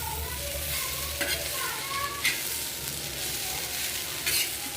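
Peas curry sizzling in a pan while a spoon stirs it, scraping and clinking against the metal at intervals over a steady frying hiss, close and fairly loud throughout.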